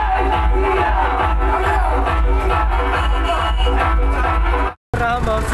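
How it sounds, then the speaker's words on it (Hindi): Dense crowd din at a Ram Navami puja celebration, loud and continuous with mixed voices, music and festive noise, cutting out briefly near the end. "ये देखिए कितना भीड़ लगा हुआ है दोस्तों"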